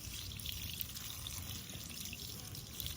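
Water poured over an oily motorcycle chain and chain cover to wash off old grime: a steady, continuous splashing rush that holds for the whole stretch, with no voices.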